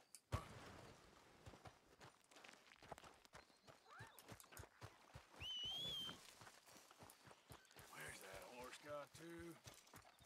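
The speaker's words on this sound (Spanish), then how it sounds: "Caballo." Horse hooves clip-clopping in the Western video game Red Dead Redemption 2, a steady rhythmic run of thuds at moderate distance, overlaid by sparse game effects, a brief whistle-like tone and other incidental sounds.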